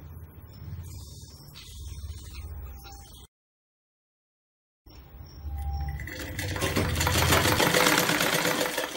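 A sewing machine stitches a blouse sleeve in short runs, with brief quiet handling, a silent gap, then a longer sustained whirring stretch at moderate loudness.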